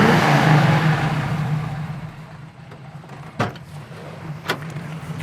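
Engine and exhaust of a 1971 Chevy Camaro RS split-bumper muscle car, a steady low rumble that swells loudly at first and then settles to a quieter idle, with two sharp clicks or knocks near the end.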